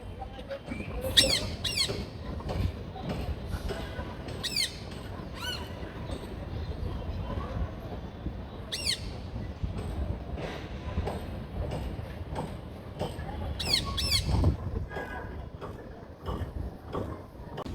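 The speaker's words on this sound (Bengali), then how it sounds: "এটা হচ্ছে অন্য বাসার পাখি টিয়া পাখি" Harsh, piercing parakeet squawks ring out in short repeated bursts, some in quick pairs, over a steady rumbling background with no talking, heard from a rooftop.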